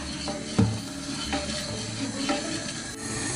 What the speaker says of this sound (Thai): ตั้งจนนมเดือด คนให้น้ำตาลละลายนะคะ